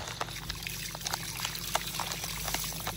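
Water pours and trickles steadily as a Jack Russell terrier gets a bath in a rural province yard, a continuous splashing flow with no voices over it.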